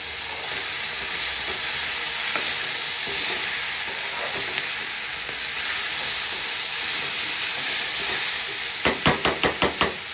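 Onions fry in a pan with a continuous loud sizzle and hiss, followed near the end by a quick series of about six sharp knocks of a spatula against the pan.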